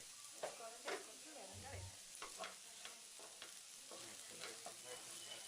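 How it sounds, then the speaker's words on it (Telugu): Potato pieces fry with chili powder in a pan, a quiet sizzle with soft scraping stirs and a few light clinks at irregular intervals, fairly faint and without talk. "కారం వేసుకుని ఒక్కసారి పచ్చివాసన పోయే వరకు 2 నిమిషాలు బాగా ఫ్రై చేసుకోవాలి."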